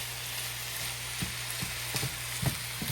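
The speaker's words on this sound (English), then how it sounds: "we're just browning our meats and just making sure that they're ready" Chicken and meat browning in a pan for lumpia filling, a steady close sizzle with occasional soft scrapes of stirring and a low constant hum underneath.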